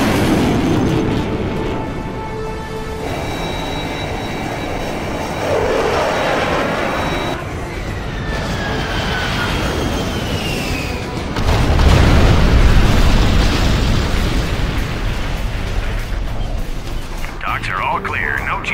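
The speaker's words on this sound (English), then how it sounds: "Launching airstrike." Airstrike on docks in Command & Conquer Generals Zero Hour, with booming explosions swelling midway after radio-style voice lines and game tones, the blasts rumbling loudly and lingering before fading into further chatter.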